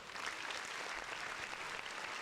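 Applause from a small group on a battle rap podcast set, a dense, even patter of clapping at low level lasting a couple of seconds.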